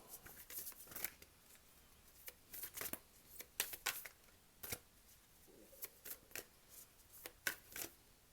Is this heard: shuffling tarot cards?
yes